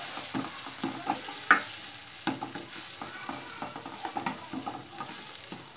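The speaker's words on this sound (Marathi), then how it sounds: "तर हे तेलामध्ये छान असं परतून घ्यायचं आपल्याला।" Masala being stirred and fried in hot oil for a Maharashtrian brinjal curry, with a steady close sizzle broken by irregular spoon scrapes and taps against the pan.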